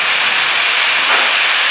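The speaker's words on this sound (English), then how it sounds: "Then it'll move over to the third head, which is the steam sanitizer. So it pumps steam through." A steam sanitizer on an automatic brewery keg cleaning and filling line blasts steam through a beer keg, giving a loud, continuous, close hiss with no talking.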